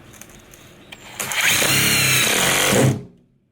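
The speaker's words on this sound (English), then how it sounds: "All right, we're down to the last few screws." A power drill drives a screw into a van ceiling during a camper van build: one loud, close, sustained whirring burst of about two seconds follows a quiet stretch and then cuts off.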